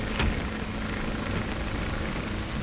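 Propeller engine of a 1935 skywriting plane, a continuous droning roar that holds steady and fairly loud, with a couple of brief clanks over it.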